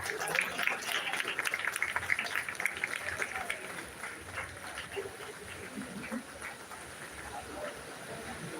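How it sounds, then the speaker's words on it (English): Scattered clapping from a convocation audience, strongest at first and then thinning out, with faint voices and room noise underneath. "Give a round of applause to her."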